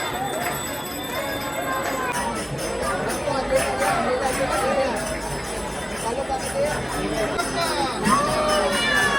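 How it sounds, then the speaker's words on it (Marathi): A huge crowd throngs a Ganesh immersion procession, a dense wash of voices, shouting and chatter with ringing bells throughout, loud and continuous. "प्रचंड गर्दी"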